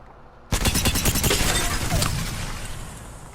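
Rapid automatic LSTAR gunfire in the video game Apex Legends bursts in suddenly after brief quiet, a loud dense stream of shots that continues to the end.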